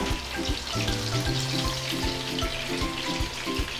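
King fish pieces fry in hot oil for a fish biryani, a dense continuous crackle and bubbling sizzle with steady loudness and no voices.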